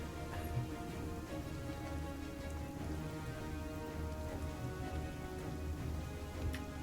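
Steady rain patters continuously on a surface, a soft, even hiss of drops with no voices, fairly quiet throughout.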